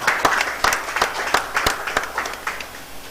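Scattered, uneven clapping from a small group of university finalists at the Nigeria Genius 2023 final, with sharp individual claps in loose bursts that thin out toward the end.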